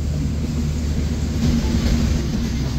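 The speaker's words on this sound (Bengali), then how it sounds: "ট্রেনটি কিন্তু খুব অল্প সময় যাত্রাবিরতি দিয়েই ছুটে চলেছে তার পরবর্তী যাত্রাবিরতির উদ্দেশ্যে" Sagardari Express train running on the rails, a steady loud low rumble and rolling drone with no voices.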